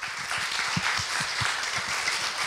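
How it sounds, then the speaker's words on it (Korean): Audience applause closing a university dialogue lecture, a full, even burst of many people clapping with a few distinct nearby claps standing out, no talking over it. "모두를 위해서 한번 큰 박수 한번 합시다"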